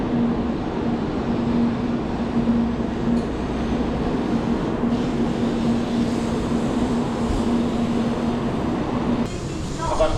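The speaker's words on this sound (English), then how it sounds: "Train is coming now." A Japanese bullet train roars into a station with a loud, steady rushing rumble and a sustained whine, ending in a sudden shift as it slows.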